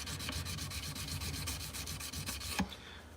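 Steady rhythmic rubbing strokes of 400 grit sandpaper on a forged workpiece, close and fairly quiet, repeating evenly before a brief knock near the end.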